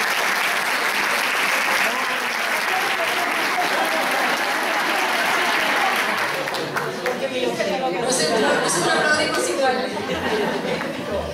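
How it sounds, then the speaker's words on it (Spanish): Audience applause at a conference in La Plata, dense sustained clapping from a large crowd that later thins into looser claps mixed with chatter and voices. "Le damos un aplauso."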